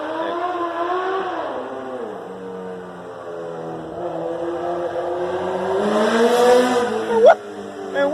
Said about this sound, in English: I'm sorry for that loud motorcycle